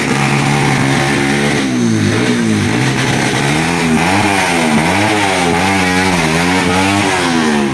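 Motorcycle engines rev hard and loud close by at a motorcycle race, with repeated rising and falling pitch sweeps over a continuous engine roar.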